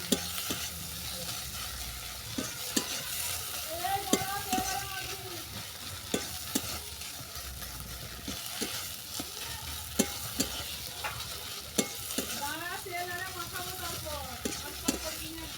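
Raw chopped onions get mixed into a barma greens mash in a pan, a steady soft sizzle broken by regular sharp taps and scrapes of the utensil, while faint bird chirps sound in the background.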